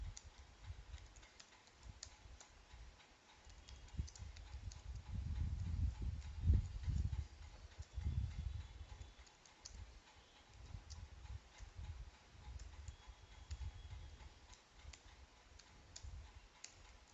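Steady clicking of someone typing a C program on a computer keyboard, quiet and close, a continuous patter of key presses with a slightly louder burst partway through.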